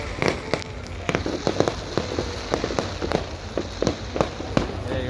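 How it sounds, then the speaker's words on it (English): Rain falling outdoors on a wet night, a steady patter with sharp irregular cracks and pops scattered through, like distant firecrackers around a bonfire night. "Rain, babe."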